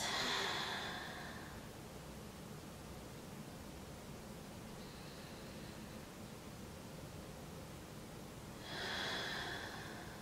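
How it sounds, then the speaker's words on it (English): Deep breaths taken during a gentle plus-size yoga back flexibility flow, with an airy inhale at the start and another exhale near the end, soft and close, separated by a quiet hiss of room noise. "I'm going to start to take some deep breaths."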